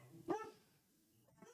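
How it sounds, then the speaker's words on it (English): A dog barks once, sharp and fairly close, near the start, then a second softer bark follows about a second later in an otherwise quiet indoor room. "Sorry, that's my dog."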